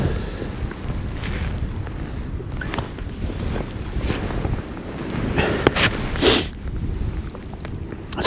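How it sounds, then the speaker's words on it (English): A gust of wind buffets the microphone at a fishing peg during a winter feeder fishing match, rough rumbling bursts that swell and fall over several seconds with a sharp louder blast near the end. "Just a gust of wind just blew it straight round, straight over my rod."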